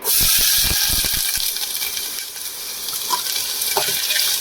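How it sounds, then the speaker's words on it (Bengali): Onions drop into hot refined oil and sizzle loudly and steadily up close, with a few crackling pops at the start. "একটা জায়গা বসিয়ে রিফাইন তেল নিয়ে নিয়েছি, তেলটা আমার গরম হয়ে গেছে, পেঁয়াজগুলো ছেড়ে দেবো।"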